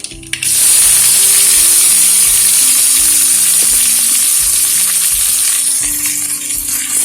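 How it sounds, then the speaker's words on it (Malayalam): Onion, ginger and curry leaves hit hot oil with mustard seeds in a pan for a green gram and raw banana curry, a loud steady sizzle with crackling that starts abruptly and holds throughout. "ഇനി നമ്മൾ അതിനുള്ളിലേക്ക് സവോളയും കുറച്ച് ഇഞ്ചി കുറച്ച് കറിവേപ്പിലയും കൂടെ കൂടി നമ്മൾ ഇട്ട് കൊടുക്കുക"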